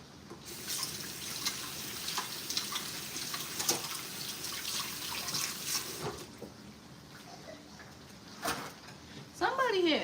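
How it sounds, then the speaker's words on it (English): Hands being washed under a running kitchen tap, a steady broadband water rush with small splashes and drips, close, running throughout with brief talk over it. "So I'm gonna wash my hands"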